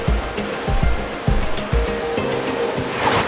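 Water rushing down the Argo Cascades on the Huron River, a series of nine one- to two-foot drops bypassing a dam: a steady, close roar with occasional low thumps, no voices.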